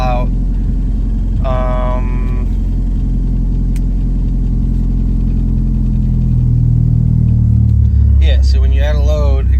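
A 1997 Mitsubishi Eclipse GSX engine idles unevenly with a fault that drops the revs under load, giving a steady low rumble that sags and swells, while people talk over it in short bursts.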